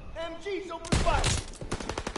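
Machine gun fire in Call of Duty WWII, a sudden loud burst of rapid automatic shots after a brief stretch of shouted voices, continuing as dense close gunfire with individual shots distinct near the end.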